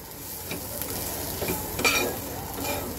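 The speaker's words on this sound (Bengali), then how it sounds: "এইবার এই মশলাটাকে খুব সুন্দর করে আস্তে ধীরে কষাতে হবে" Ground coriander and cumin spice paste sautés in a pan with a steady close sizzle, while a spoon stirs and scrapes in brief strokes throughout.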